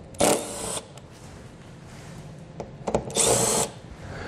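Power tool with a 7mm socket spinning out bolts on a 2019 Lincoln during a base plate install, two short whirring bursts separated by a pause with small clanks, close and fairly quiet.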